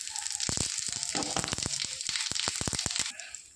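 Dried red chillies, bay leaves and whole cumin seeds crackle and sizzle in hot oil in a pan, a dense steady frying hiss broken by sharp popping spatters, close and fairly loud, with no talk.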